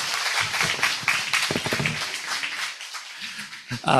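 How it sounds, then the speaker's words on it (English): A club audience applauds new members at a Rotary Club meeting, with dense, mid-loud clapping filling the room and a voice briefly speaking over it. "Let's give them a big round of applause."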